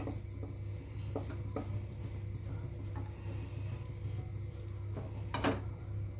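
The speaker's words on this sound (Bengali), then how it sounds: "আমুল বাটার আর রাইস অয়েলটা একসাথে ভালোভাবে মিশিয়ে নিলাম।" Amul butter and rice oil are stirred together in a wok over a low flame, with soft scraping strokes and light taps of a spoon against the pan over a quiet background hum.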